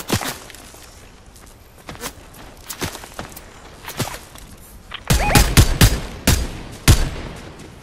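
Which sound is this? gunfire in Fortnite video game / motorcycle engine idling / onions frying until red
gunfire in Fortnite video game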